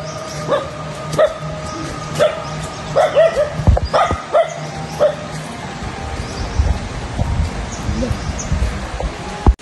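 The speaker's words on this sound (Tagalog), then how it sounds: "May aso pala." A dog barks in a series of sharp, close yips and woofs, some whimpering between, on an island outdoors near a chapel, with rustling background and little talk.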